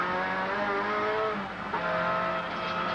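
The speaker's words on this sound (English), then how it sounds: "Listen how gently Colin has to use the throttle. Gently, gently, then whacks it when he gets into a straight line" Onboard the 1989 touring car at Symmons Plains, the engine drones steadily and loudly under light, gentle throttle, with a brief dip in the middle before the note picks back up.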